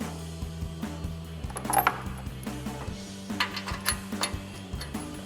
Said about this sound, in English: slide our bolt into that thread. Start threading it in.